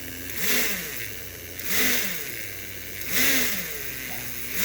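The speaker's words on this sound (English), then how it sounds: "So I rev it up." Three separate revs of an early-1960s engine, each swelling up and falling back to idle at regular intervals, fairly close and moderately loud.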